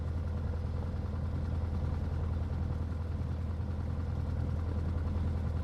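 A steady, unchanging engine drone from a light airplane idling at 1200 rpm after landing in a flight simulator game, a continuous low hum heard alone at moderate volume.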